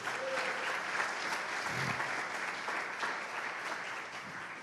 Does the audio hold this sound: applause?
yes